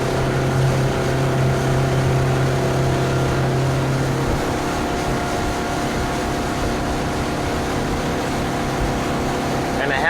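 A 2021 Cobalt R6 bowrider cruises across choppy lake water, its engine a steady loud drone with wind and hull noise throughout and no let-up.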